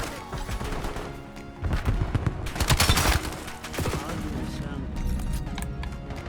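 Rapid gunfire in a first-person shooter hardpoint match, loud bursts of automatic fire clustering in the middle with scattered shots before and after, over game sounds and voices talking.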